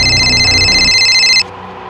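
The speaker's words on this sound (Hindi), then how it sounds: "अभी नदीम का फोन है सर" A telephone rings loudly with a steady electronic tone that repeats for about one and a half seconds and then cuts off, leaving faint background hum in a tense crime drama scene.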